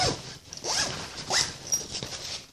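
A backpack zipper being pulled open and shut in a few quick rasping strokes, close and fairly loud, with soft handling rustle between pulls and no talking.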